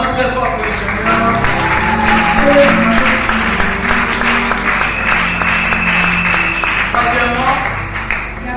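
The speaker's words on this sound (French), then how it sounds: "Acclamons très fort pour le Seigneur" A church congregation claps and cheers loudly for the Lord during a special worship service, a dense sustained wash of applause with voices and music mixed in throughout.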